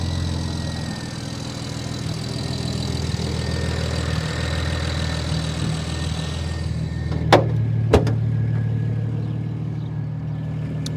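A BMW 335xi with a big turbo idles with a slight misfire after sitting unused for a month, a steady close engine drone with faint irregular stumbles and a couple of sharp knocks near the end.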